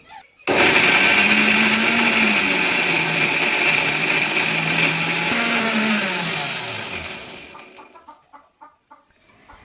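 A mixer grinder grinds garlic for chutney with a loud, close, continuous motor whine that starts abruptly, holds steady for several seconds, then winds down to a stop with a few rattling spins at the end.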